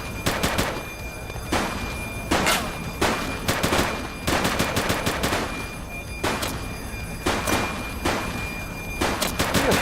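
Rapid automatic gunfire in the police game The Precinct, repeated loud bursts of machine-gun fire with short gaps between them, dense and close throughout.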